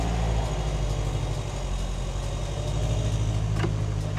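A car engine idles steadily and close by, a continuous low rumble holding an even pitch throughout, with no talking over it.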